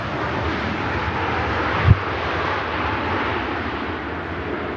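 A Ryanair Boeing 737 MAX 8 landing at Manchester Airport, a constant broadband engine roar with wind buffeting and a brief low thump near the middle, fairly loud and with no speech.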